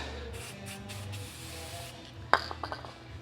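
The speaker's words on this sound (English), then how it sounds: "Spray it black." A steady hiss of black aerosol spray paint on a metal part of a 1932 Ford fuel system runs for a couple of seconds, followed by a sharp clatter and a few lighter knocks.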